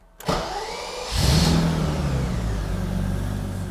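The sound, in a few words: restored BMW E31 850 V12 engine starting and idling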